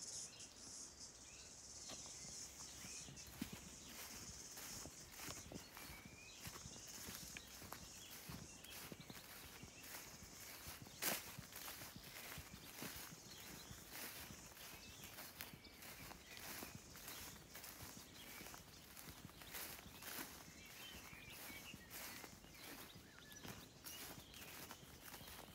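Steady footsteps crunch along a farm path at dusk toward a gate, close and soft, with crickets and insects chirring throughout and occasional birds in the background.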